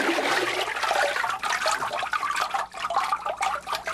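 A papermaking mold dipped into a vat of pulp water to form a sheet, with continuous close sloshing and splashing of water that rises and falls as the mold moves.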